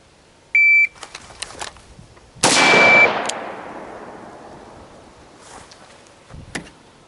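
An electronic shot-timer beep comes first, then a single loud rifle shot cracks out close by, and its echo rolls away slowly over several seconds. Faint clicks and handling noises follow the shot.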